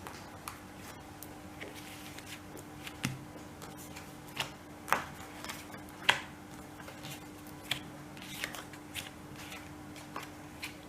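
Tarot cards being cut and laid out for a cross spread, with soft, sparse clicks and snaps of card stock against a table, close and quiet and spaced irregularly, with no talk.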